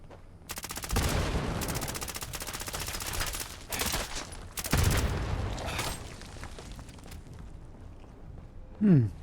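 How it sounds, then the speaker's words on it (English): Rapid crackling bursts of far-flung fireworks in Fallout 76, coming in dense volleys with short gaps, loud and continuous for most of the stretch, with a brief rising tone near the end. "Someone's got far-flung fireworks on."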